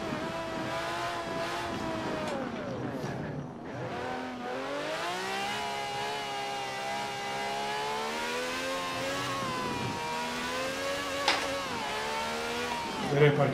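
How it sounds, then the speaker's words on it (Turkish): A racing car engine in the video game Forza Horizon 4 revs and shifts steadily throughout, with rising and falling pitch sweeps, a brief dip midway and a couple of sharp spikes near the end. "Arabanın ses, gidiş falan gerçekten çok çılgın,"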